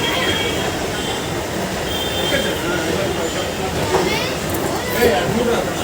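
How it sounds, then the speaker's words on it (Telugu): A local train runs from Lingampally in Hyderabad, with a steady loud rumble and rattle of the carriage and wheels throughout and occasional faint squeals. "ట్రైన్లో వెళ్తున్నాం లింగంపల్లి నుంచి."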